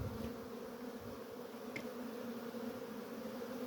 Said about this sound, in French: En ce moment ça commence à sortir de plus en plus ces abeilles